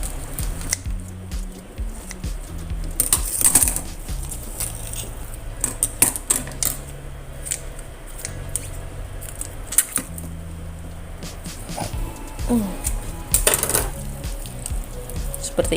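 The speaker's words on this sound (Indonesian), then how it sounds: "Digunting saja karena ini ayamnya masih sangat muda sekali." Kitchen scissors snip through a very young chicken along its backbone, with irregular close crunching cuts, clicks and wet handling noises against a low hum of background sound.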